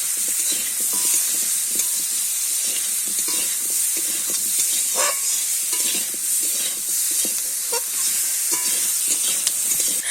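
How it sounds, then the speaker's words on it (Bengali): Potatoes fry in oil with salt and turmeric, giving a loud, continuous sizzle and hiss up close, broken by frequent scraping and stirring clatter from a utensil against the pan, with no voices. "লবণ আর হলুদ দিয়ে আলুটা ভালো করে ভেজে নেব"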